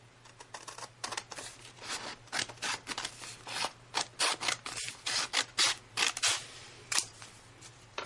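Scissors snip repeatedly through excess paper while squaring a sheet for an origami rose and cup, a quick, close series of crisp cuts and rustles.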